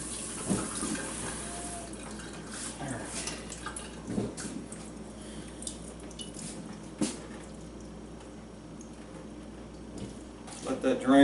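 Wheat and corn seeds being rinsed, with water trickling and dripping at a low, steady level and a few louder splashes.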